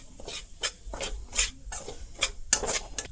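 Semolina roasting with ghee in a pan for a palm-sugar pitha, stirred steadily so a spatula scrapes and rustles in a quick, uneven rhythm, with light metallic taps against the pan throughout.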